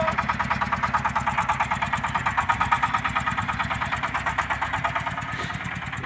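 A vehicle engine runs steadily in the snow while reversing, with a close, even pulsing throb at a constant pitch throughout.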